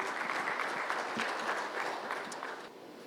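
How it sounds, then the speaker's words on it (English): An audience applauds a chief guest at a corporate event, with dense steady clapping from a crowd nearby that fades slightly at the end. "Can we have a huge round of applause for Mr."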